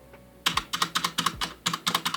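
Typing on a Gigabyte Force K83 mechanical keyboard with Cherry MX Red switches, a quick run of about a dozen close, crisp key clacks in an uneven rhythm, heard alone.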